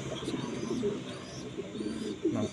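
Pigeons coo repeatedly at close range in a rhythmic, low, throaty series, with soft rustling and other bird sounds behind them and no talking.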